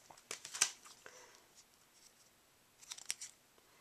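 Scissors cutting out a paper stocking shape for a Christmas craft, a few crisp close snips in a quick cluster, a pause, then another short burst of snipping, quiet otherwise.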